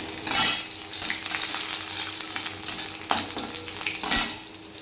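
Two dried red chillies and crushed garlic sizzle in hot oil in a pan, a steady close frying hiss broken by louder bursts of stirring and scraping, with no talking.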